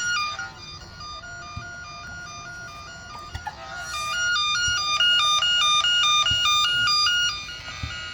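A network cable tester's tone probe near a yellow cable gives a loud electronic warbling tone that steps between two pitches in a rapid alternating pattern, alone without talk.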